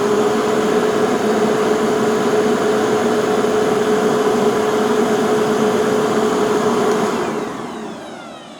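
A belt-driven machine's motor runs with a loud, steady whine and hum, a constant tone holding for several seconds before the machine winds down near the end.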